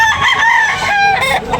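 A rooster crows loudly and close by at a chicken market in Tabunok, Talisay, Cebu, its long wavering call rising and falling through the whole stretch over faint market background.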